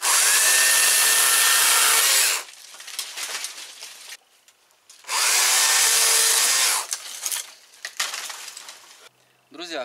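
A Stihl 160T cordless top-handle chainsaw runs in two loud, sustained bursts, each followed by cutting and crackling wood, with quieter pauses between.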